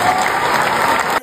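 A crowd of about 1700 at an evening arts show breaks into dense, loud applause that holds steady, then cuts off abruptly.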